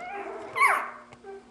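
Chocolate F1B Labradoodle puppies whimpering close by, with a brief high whine in the middle and softer yips on either side.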